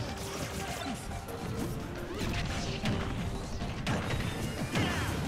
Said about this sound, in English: Forward smashing straight through it, and he's got gyro in hand, throws it down.